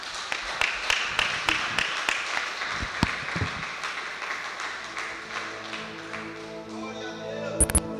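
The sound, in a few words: congregation clapping in worship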